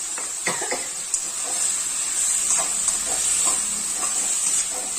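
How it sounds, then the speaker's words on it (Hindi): Tomatoes and vegetables roasting in a hot pan for a Chhattisgarh-style jimikand sukhdi curry, a steady bright sizzle and hiss with occasional scraping stirs, close up, no voices. "इसे भी हम अच्छे से भून लेंगे"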